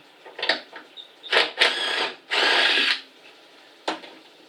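A power tool spins a bolt out of a 1972 Chevelle Malibu door in a series of short close whirring bursts, one longer run in the middle and a final brief burst.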